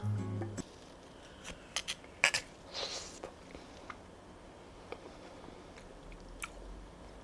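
Someone bites into and chews a low-sugar, low-calorie ice cream bar, giving a few close crisp bites followed by softer, quieter chewing and mouth sounds.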